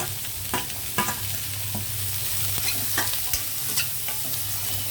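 Beans, carrots and green chilies frying in oil with ginger and garlic, a steady close sizzle broken by sharp scraping stirs of a spatula against the pan at irregular intervals.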